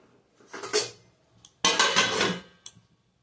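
A lid is set onto a cooking pot of pointed gourd, giving a couple of close metallic clanks and rattles with short pauses between, followed by a faint final clink.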